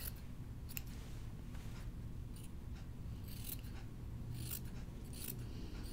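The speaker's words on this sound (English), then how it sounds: "let's trim our yarn fur. Give it a haircut." Scissors snip and trim yarn fur on a sewn button-up shirt: quiet, close, irregular clusters of crisp clicks and cuts against a low hum, with no talk.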